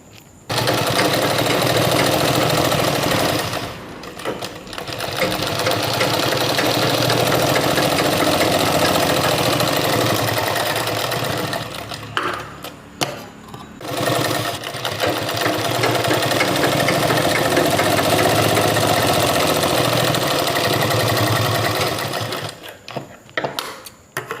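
A sewing machine stitches the folded hem of baby pyjama pants in long continuous runs of rapid close whirring, stopping briefly a few times between passes.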